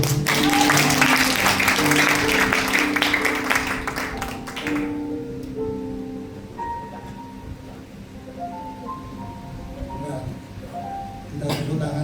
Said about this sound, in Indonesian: Kita tepuk tangan memang buat Tuhan.